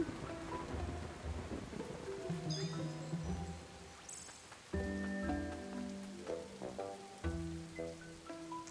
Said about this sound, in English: wait for a thunder crash again